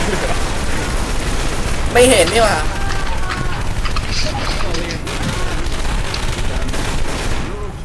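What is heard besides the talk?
gunfire in video game Left 4 Dead 2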